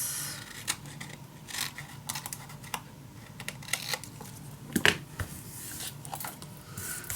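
Scissors snip through paper for a handmade mini album, a series of short, crisp cuts at close range, irregular in rhythm, with one sharper snip near the middle and no talking.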